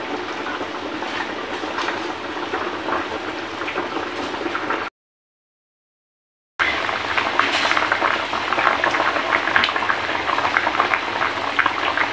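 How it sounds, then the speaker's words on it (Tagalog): Sinigang na bangus, a sour milkfish soup with lemon, boiling in a cooking pot, giving a steady bubbling hiss throughout with a short break of silence partway through. "kumukulo ang ating nilulutong sinigang na bangus"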